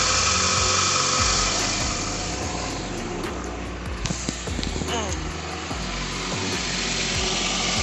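A 2013 Nissan Altima engine idles freshly after an oil change, a steady low hum with a faint ticking rhythm, and a voice talks over it briefly.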